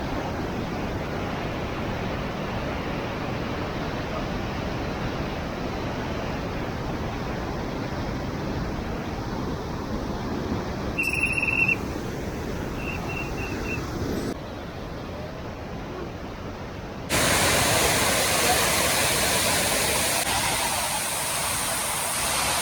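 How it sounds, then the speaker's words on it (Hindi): A high-pressure mountain waterfall near a bridge roars as a loud, steady broadband rush, continuous and close, with a brief shift in tone midway and a louder surge near the end. "अगर आप इसकी आवाज़ को ध्यान से सुनोगे तो आपको पता चलेगा झरने में काफ़ी ज़्यादा प्रेशर है"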